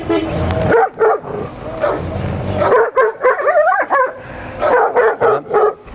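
A dog reacts as someone takes hold of its leash, barking loudly and repeatedly at close range in rapid bursts, with yips and whimpering between them.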